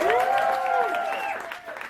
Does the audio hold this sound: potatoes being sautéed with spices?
no